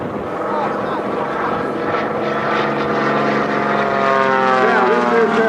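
A propeller racing airplane built like a golden-age air racer flies aerobatics at an airshow, its engine a loud steady drone that shifts in pitch as it turns; an announcer talks over it.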